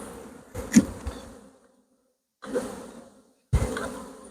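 Honeybees buzz close around a nuc hive with loose crazy comb, the hum coming in short bursts broken by quiet gaps.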